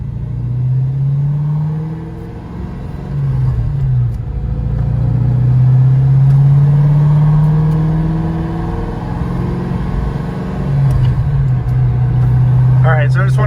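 A Ford Mustang GT fitted with wheel spacers drives on the road with a deep, loud engine rumble that rises and falls as it accelerates. Someone talks over it throughout.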